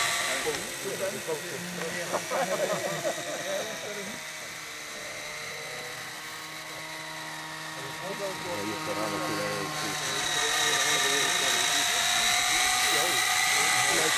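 A radio-controlled model helicopter flies at a model aircraft club, its high-pitched rotor and motor whine droning continuously and shifting in pitch, loud and steady, with voices talking underneath.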